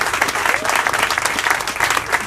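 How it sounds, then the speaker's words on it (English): A crowd at a political campaign rally in Bloomington, Illinois claps steadily in dense, sustained applause, loud and continuous throughout. "Round of applause for our volunteers."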